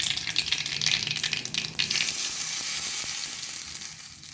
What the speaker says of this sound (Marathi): चला आता आपण ही फोडणी यावर घालून घेऊया.